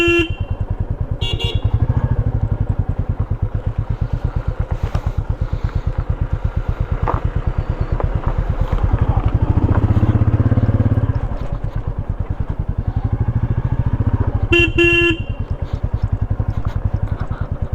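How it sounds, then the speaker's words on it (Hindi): Vehicle horns sound on the mountain road from Shimla to Narkanda, with a couple of short honks near the start and another burst near the end over a close, steadily throbbing motorbike engine and passing traffic. "देखा कैसे हॉर्न दे दे करके सब साइड दे रहे और साइड मांग रहे हैं।"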